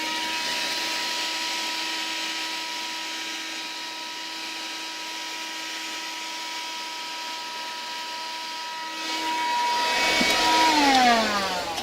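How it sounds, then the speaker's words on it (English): A vacuum cleaner drones over static grass on a model railway scene in 4 gauge, a steady close whine with tonal hum that rises in pitch and roughens near the end as suction shifts. "what you need to do is just put your vac on."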